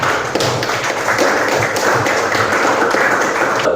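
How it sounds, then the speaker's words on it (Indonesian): Applause from a class of students in a school classroom, brief close patter of many hands clapping at once. "Baik, ya, tepuk tangan ini, Pak."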